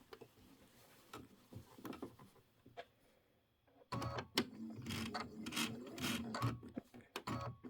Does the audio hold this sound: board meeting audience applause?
no